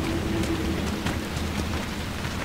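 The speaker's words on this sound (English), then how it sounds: "And the rain." Rain in a drowned village in the video game Dragon Age: Inquisition, a steady wash of falling rain with scattered drop patters and a low background rumble.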